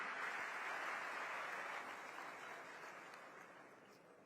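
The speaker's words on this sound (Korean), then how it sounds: "따뜻한 박수로 환영해 주시기 바랍니다." An auditorium audience at a university hall in Egypt applauds to welcome the South Korean president, a faint, distant wash of steady clapping that slowly fades over several seconds.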